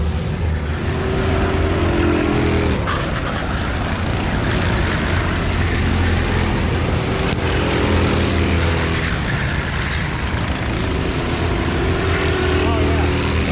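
A race vehicle's engine howls at full throttle on track during a 24-hour race at Teesside, a loud, continuous roar with pitch sweeps that climb and fall repeatedly over about thirteen seconds.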